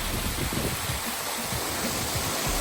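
Large pondless waterfall pouring over rocks, a loud, steady broadband rush of splashing water close by with no voices.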